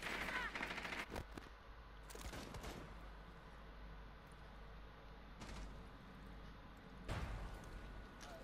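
Several loud volleys of rapid gunfire from the video game Rainbow Six Siege burst out, separated by quieter stretches of low background noise.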